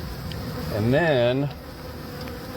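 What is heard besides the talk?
honey bees buzzing at a hive in eaves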